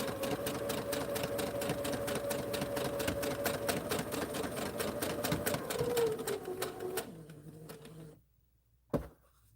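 A sewing machine stitches fabric at a fast, steady rhythm, then slows and stops, followed by a short quiet gap and a single sharp click.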